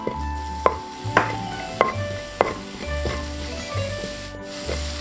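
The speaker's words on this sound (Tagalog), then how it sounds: "In sautéing our garlic" Garlic sizzles in hot oil in a pan, a continuous frying hiss punctuated by several sharp taps and scrapes of a utensil stirring.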